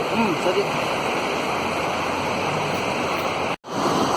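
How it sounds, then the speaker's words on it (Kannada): Fast-flowing water of the Parvati river roars loudly and steadily nearby, a dense continuous rush that cuts out abruptly for a moment near the end before resuming. "ಇಷ್ಟೊಂದು ರಭಸವಾಗಿ ಹರಿಯುತ್ತಿದೆ ನೀರು"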